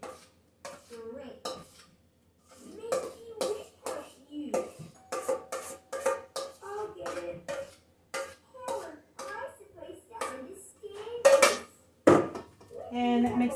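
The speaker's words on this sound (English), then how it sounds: "And mix that up till well combined." Whipping cream being mixed into cream cheese in a bowl for a no-bake cheesecake, with repeated close clinks and scrapes of a utensil against the bowl in an uneven rhythm, broken by brief pauses.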